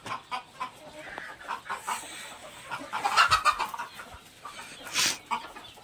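Country hens cluck in a village poultry shed, with repeated short, close clucks and calls coming in uneven bursts and no talking.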